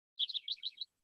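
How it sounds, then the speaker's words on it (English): Several birds chirp and tweet outdoors in a quick, bright run of short calls lasting under a second, faint and distant, with no talk over them. "Hear the birds."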